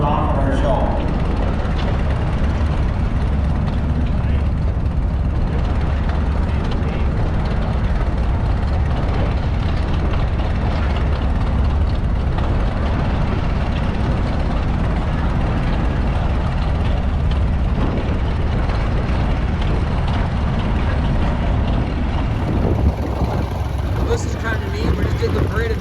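An antique John Deere tractor engine runs steadily at an antique power show parade, a continuous low rumbling drone that holds even for the whole stretch, with a voice talking over it.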